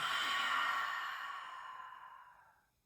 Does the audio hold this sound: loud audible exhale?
yes